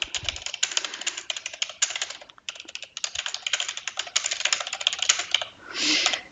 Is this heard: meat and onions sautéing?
no